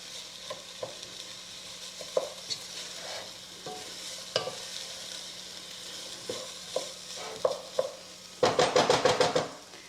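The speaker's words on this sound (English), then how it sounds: "Teaspoon or so of salt, stir that around." Salt being stirred into golden lentil soup in a pot, with a steady soft scraping and light sizzle, and a quick burst of sharper rhythmic clinks of the spoon against the pot near the end.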